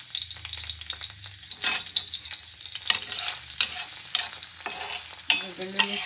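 Crushed garlic sizzling and frying in hot oil in a pan for a Kannada-style small capsicum (dodda menasinakai) curry, with steady crackle, bursts of stirring scrapes, and no talking.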